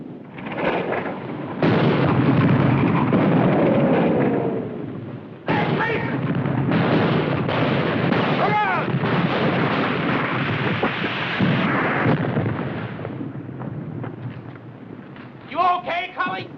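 Artillery fire and explosions from a 1951 war film about the 442nd Regimental Combat Team, repeated heavy booms and rumbling blasts over about sixteen seconds, loud and close, with battlefield clamor and voices in between.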